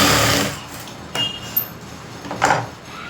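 A sewing machine stitches a blouse in one short burst at the start, and after it come a few light clicks and taps of handling at close range, with no speech.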